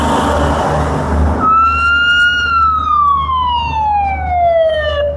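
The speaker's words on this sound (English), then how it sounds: "That's the siren you don't want to hear going to your house." Siren of a truck in a labour weekend truck parade in Invercargill, New Zealand: loud rumbling engine noise cuts off, then a single long siren wail sounds nearby, rising slightly before slowly falling in pitch as it winds down.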